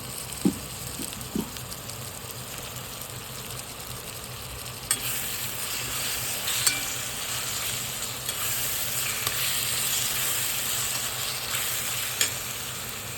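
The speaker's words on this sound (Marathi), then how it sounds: "त्याच्यामध्ये आता कटिंग केलेला बटाटा टाकूया." Cut potatoes frying in a raw-ground masala paste for a peas pulao, a continuous close sizzle with occasional soft clicks of stirring.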